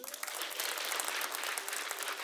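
Audience at a stand-up comedy show in Cameroon bursts into dense, steady applause, a continuous wash of many hands clapping at moderate loudness with no voices over it.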